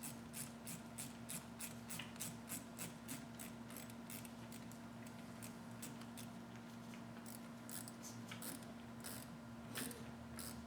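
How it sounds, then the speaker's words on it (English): A 7mm socket ratchet snugs up hose clamps on a cold air intake for a 2014 Chevy SS, a long series of quick, faint clicks in a steady rhythm over a low steady hum. "take your 7mm socket, snug up the hose clamps"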